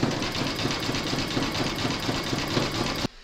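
An embroidery machine runs a zigzag stitch around the raw edges of a bookmark border, giving a steady, fast mechanical chatter with a rhythmic knocking pulse that stays loud and close for about three seconds before cutting off abruptly.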